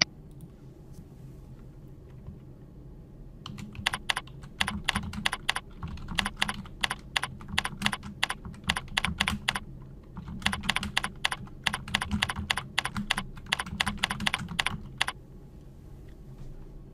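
A subheading is typed on a computer keyboard. Close, crisp key clicks come in two rapid bursts with a brief pause between them, with no talk.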